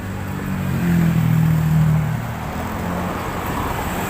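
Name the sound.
road traffic passing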